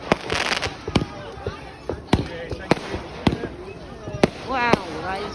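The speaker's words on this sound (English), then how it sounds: "A firework just went off on the ground and now there's a lot of smoke everywhere." Bonfire Night fireworks cracking and popping in a rapid irregular string of sharp bangs, some close and loud, with people talking and reacting in the background.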